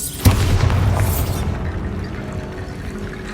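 The Bombarda blasting spell in Hogwarts Legacy goes off as a single loud, close explosion with a sharp onset, then a rumbling, crumbling tail that fades over a few seconds.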